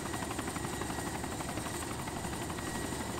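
A jet engine spooling up in DayZ Origins, the ArmA 2 mod, as a steady, loud whining roar with a rapid rotor-like flutter, holding constant for about three seconds with no talk.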